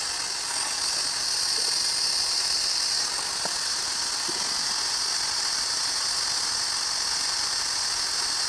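Fluid being drawn through the lines of an Audi RS4/RS6 Dynamic Ride Control system by a VAS6544 vacuum unit, a steady airy hiss and hum that runs continuously throughout with faint clicks, no talking.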